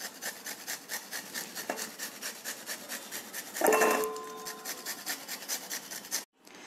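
Cauliflower being grated by hand for gobhi paratha, a rhythmic series of scraping rasps against the grater, close and fairly quiet, with one louder clattering scrape midway and no voices.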